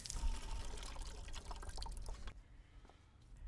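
Water pours and splashes steadily for a couple of seconds, close and fairly loud, then stops abruptly, leaving a faint trickle and a quiet room.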